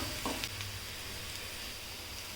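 Garlic, onion and green chili sautéing in a hot pan, a continuous soft sizzle with a few faint stirring scrapes, heard close and steady with no talk.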